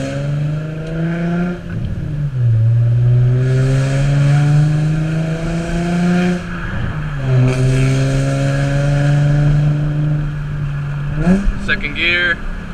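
An Infiniti G35 fitted with a plenum spacer accelerates hard through the gears from the cabin, the engine note climbing steadily in two long pulls split by a quick upshift, with a voice talking over it.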